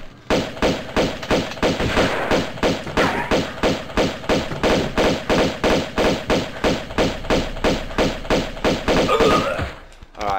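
Rapid, steady pistol fire in Tomb Raider II rings out as dozens of evenly spaced loud shots over about ten seconds, aimed at a shotgun-wielding enemy, then stops abruptly.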